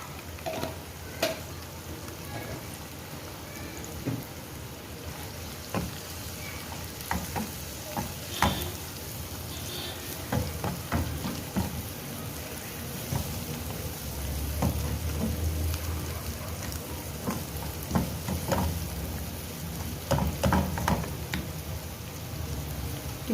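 Tomatoes frying in a pan with red chili powder and turmeric, made as a base for goat brain masala, give a steady close sizzle with scattered crackles and pops and occasional stirring scrapes.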